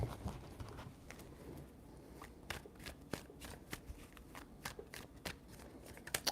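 Tarot cards are shuffled in a series of crisp riffles and soft slaps, quiet and close, with irregular bursts spread across several seconds.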